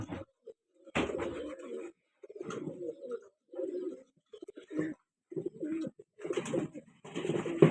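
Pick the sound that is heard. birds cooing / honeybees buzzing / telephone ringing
birds cooing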